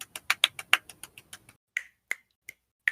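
Sharp finger snaps ring out close and alone, a fast run of about ten crisp clicks followed by four slower, spaced snaps.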